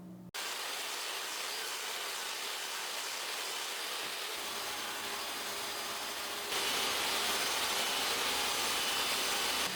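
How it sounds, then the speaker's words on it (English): A table saw runs with a steady whirring hiss while a piece of lumber just under a centimeter thick is slid over a blade raised about 5 mm to cut a groove, growing louder partway through and ending with a sharp click, alone with no talk. "Apply even pressure while sliding the wood piece over the blade."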